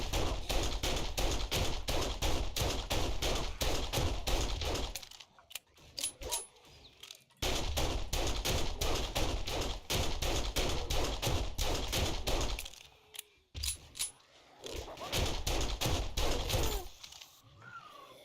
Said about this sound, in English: this is when you pull out the guns